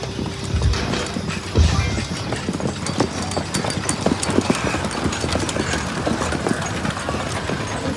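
Many heavy draft horse hooves, hitches of eight Percherons, Shires, Belgians or Clydesdales, clop on the ground in a dense, continuous patter at a Utah horse show, with a broad background rumble of activity around them.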